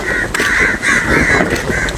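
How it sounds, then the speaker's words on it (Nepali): A crow caws loudly several times in quick succession, close and harsh, in a jungle in Malaysia, with little else around. "ए काग पनि आयो काग दाजु काग"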